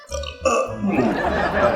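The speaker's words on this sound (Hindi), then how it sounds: "मुफ्ती की सरकारी रोटी का इसी तरह का डकार निकला।" A loud, throaty burp rises and rolls on for over a second in a studio setting, close and prominent, following a brief voiced sound at the start.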